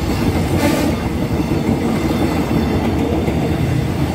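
A train passes on a railway in West Sumatra, loud and close, with heavy continuous rumbling and clickety-clack from the wheels, no voices.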